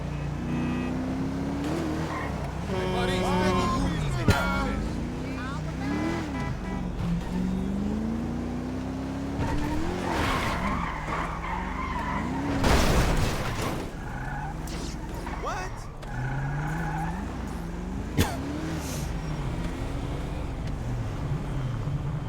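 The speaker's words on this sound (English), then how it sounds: "This car, it just wants to spin out all the time." Car in GTA 5 repeatedly skidding and spinning out, with the engine revving up and down and tires squealing in several bursts, plus a few sharp knocks, loud and close throughout.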